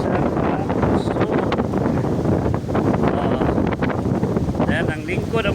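Strong wind buffeting the microphone on a tourist spot called Little Siargao near Liloy, a constant roaring rush filling the whole clip, with people talking underneath.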